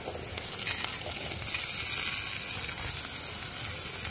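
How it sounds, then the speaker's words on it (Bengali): Cut potatoes hitting hot oil in a frying pan among softened radish for a Bengali winter-vegetable loitta shutki chochori, a steady, dense sizzle that swells slightly partway through and holds without speech. "এবার আলুগুলো দিয়ে দেবো কেটে রাখা।"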